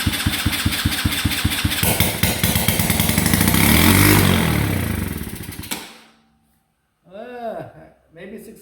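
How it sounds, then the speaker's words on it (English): A Tao Tao 125 quad with no exhaust fitted runs loud and raw, its rapid engine pulses building to a roaring peak before cutting off abruptly, followed by a moment of silence and then voices. "there's no exhaust on it, so it's loud."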